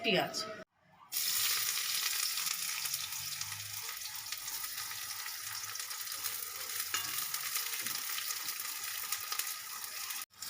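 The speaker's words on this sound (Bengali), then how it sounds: "আমি কিছুটা পেঁয়াজ তেলের মধ্যে দেব দিয়ে মাছের তেলটা দিয়ে আমি ভালো করে ভেজে নেব" Onions frying in hot fish oil for a chorchori, a brief clatter as they drop in, then a dense, steady sizzle that carries on close and even until it cuts off at the end.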